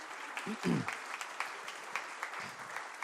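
A modest crowd applauds at a live show in February 2018, a soft, steady patter of many hands with a brief low voice near the start.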